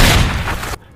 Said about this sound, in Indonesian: Tak disangka, si kondek itu malah menembak si korban.